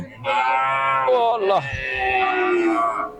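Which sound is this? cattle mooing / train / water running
cattle mooing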